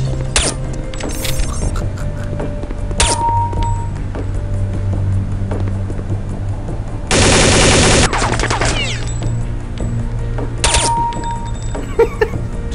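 Short controlled bursts of gunfire from a rifle in the Counter-Strike training course, several sharp volleys with the loudest sustained burst in the middle, over steady game background hum and clinking mechanical sounds.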